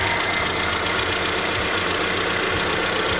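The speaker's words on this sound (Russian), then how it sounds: "Вот моторчик работает, как видно, крутится генератор" Kia car engine idling with the alternator spinning, a steady close mechanical hum with a faint knocking rattle and broadband whir, no voices.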